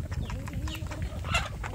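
Adult free-range village chickens cluck softly and intermittently at a farm run, with scattered bird calls over low background rumble.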